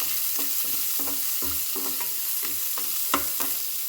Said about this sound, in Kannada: ಸಣ್ಣಗೆ ಉದ್ದುದ್ದಕ್ಕೆ ಕಟ್ ಮಾಡಿರೋ ಅಂಥ ಈರುಳ್ಳಿ ಸೇರಿಸ್ಕೊಂಡು ಚೆನ್ನಾಗಿ ಫ್ರೈ ಮಾಡಿಕೊಳ್ಬೇಕು